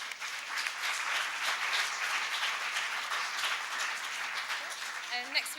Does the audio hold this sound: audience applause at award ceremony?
yes